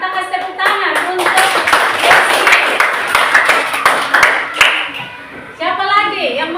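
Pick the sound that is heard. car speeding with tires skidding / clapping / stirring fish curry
clapping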